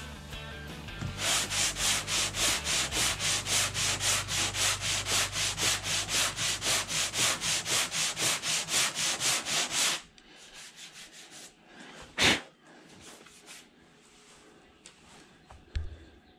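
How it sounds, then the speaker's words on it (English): Wood sanded by hand in rapid, regular back-and-forth strokes, a loud rasping scratch repeating about twice a second for ten seconds, then stopping, followed by quieter workshop knocks and a sharp thud. "Then re-sand again."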